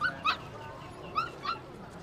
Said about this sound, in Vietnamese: Đấy những cái con chó con rất là nhiều các bạn này.